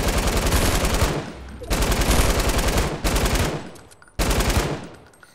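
Rapid automatic weapon fire in Fortnite's 50 vs 50 mode, loud dense bursts repeating in four close runs with brief gaps, no talk over it.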